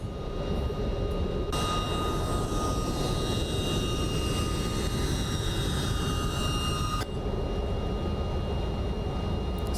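Jet engines of an MD-11F freighter airliner in X-Plane 12 roar steadily through a takeoff climb, a loud broadband rumble with a whining tone that shifts partway through, no voices.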